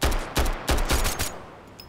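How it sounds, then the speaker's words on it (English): Pistol shots ring out in a shooter video game, four or five sharp, loud, close reports fired in quick, slightly uneven succession, then a short fading tail. "I'm just blasting everybody with a pistol"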